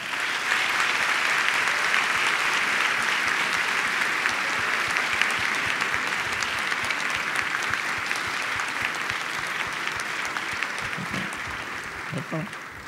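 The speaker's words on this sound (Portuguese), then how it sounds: "E assim nós o saudamos com uma calorosa salva de palmas." Sustained applause from an audience welcoming a guest speaker at a university event, steady dense clapping throughout with some voices audible underneath.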